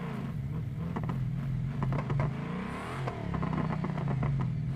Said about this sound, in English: that exhaust sounds peak